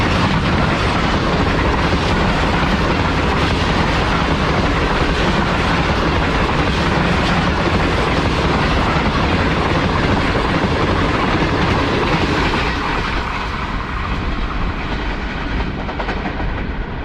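A train races past at about 105 km/h near an abandoned Indian railway station, a loud continuous roar with rapid clickety-clack of wheels over rail joints, sustained for many seconds before easing slightly toward the end, with no voices.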